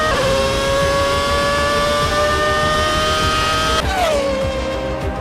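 A race car engine roars steadily at high revs in a sim racing game at Interlagos, its whine holding constant before dropping sharply as the car brakes, loud and continuous with no voices.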